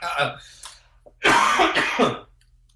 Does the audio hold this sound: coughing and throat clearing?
yes